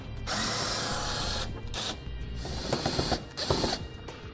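A power drill spinning out T25 Torx screws in the wheel well of a 2009 Porsche Cayenne, several loud whirring bursts separated by short pauses, close and with no talk.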